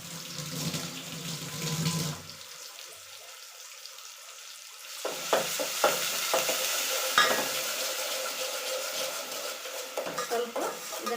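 Ground garlic, curry leaf and coriander paste sizzles in a pan for buttermilk saru, with stirring scrapes and a brief stretch of quiet partway through.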